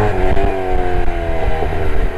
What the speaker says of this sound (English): Pops and bangs, it's pretty cool.